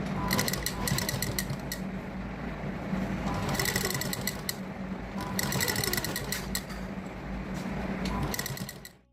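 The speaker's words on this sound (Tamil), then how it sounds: "இப்போது இந்த லேஸை தச்சு காட்டுறேன்" A sewing machine fitted with a 3-in-1 presser foot stitching lace, a close rapid mechanical whirr running in bursts with short pauses between runs, no talking, ending abruptly.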